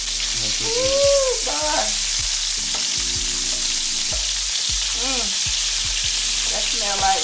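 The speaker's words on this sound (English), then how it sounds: "here comes some onions, y'all. Right in that bacon fat." Onions frying in bacon fat while a person speaks briefly, a continuous hiss of sizzling grease under the voice, close by and steady throughout.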